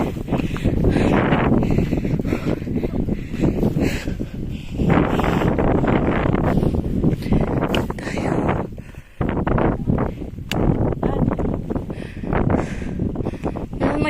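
Strong wind roars and buffets continuously across the microphone in rough gusts on a Hong Kong mountain trail, with one brief lull midway.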